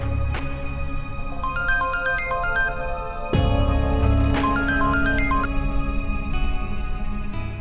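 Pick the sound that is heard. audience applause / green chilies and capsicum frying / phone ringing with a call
phone ringing with a call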